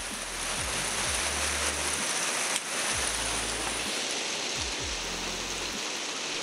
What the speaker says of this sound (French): comme prévu, voici revenir la pluie